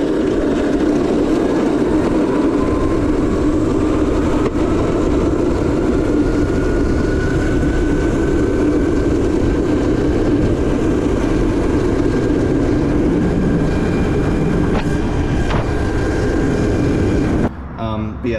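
A modded Razor Crazy Cart runs flat out at about 37 to 38 miles per hour, its electric motor a loud, sustained whine that climbs slowly in pitch over steady rolling noise.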